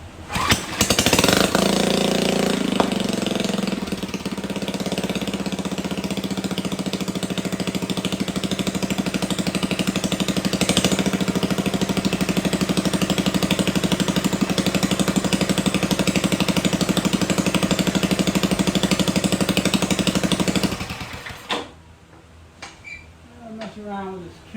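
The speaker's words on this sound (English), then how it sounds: "Let's see if it will restart." A 1967 Montgomery Ward lawn tractor engine runs with a loud, steady droning rattle for about twenty seconds close by, then cuts out, leaving quieter clatter.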